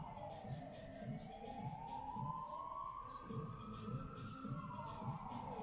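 Emergency sirens outside in the distance, a faint rising and falling wail that runs continuously under low background noise.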